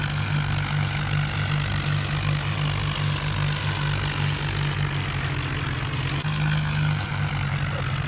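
Two tractors pull together with engines straining, a loud, steady low diesel drone with a constant throb that holds throughout, no talking.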